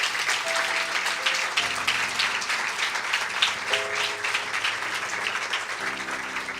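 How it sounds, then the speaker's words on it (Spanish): A church congregation claps in steady, continuous applause at moderate volume, with sustained organ or keyboard tones sounding underneath. "Un aplauso a Dios que es fiel."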